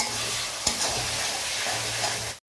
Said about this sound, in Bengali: দিয়ে আমরা মশলাটা ভালো করে কষিয়ে নেব তেল ছাড়া অবধি